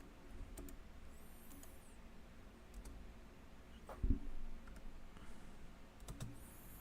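Someone types on a computer keyboard, producing sparse, faint clicks and taps over quiet room noise, with no speech.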